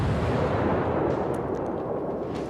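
Heavy naval guns from a warship in World of Warships boom with a deep, rumbling roar, sustained and loud throughout with no speech.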